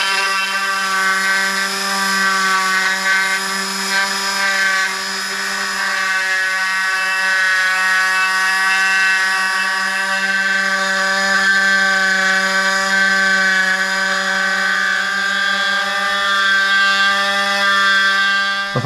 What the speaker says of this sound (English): let's get the Dremel set up and put on the Dremel